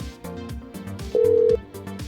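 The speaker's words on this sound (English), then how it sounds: "Right, it's ringing." A phone rings with a brief steady electronic tone about half a second long, heard over rhythmic background music.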